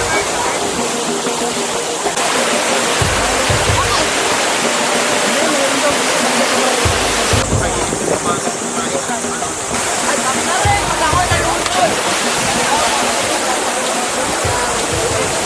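Rushing river water where people bathe, at Calinawan along the Marilaque highway, flowing steadily and loudly like a cascade for the whole stretch, with faint voices mixed into the constant wash.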